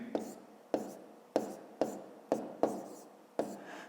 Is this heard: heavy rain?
no